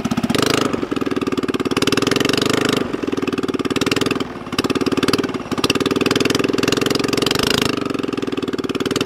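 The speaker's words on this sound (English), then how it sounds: "Man, that exhaust sounds so good, that straight pipe." A 79cc Predator small engine with a straight pipe exhaust, mounted on a Schwinn OCC Chopper bicycle, idles loudly and close by, a steady rough putter with a couple of brief dips.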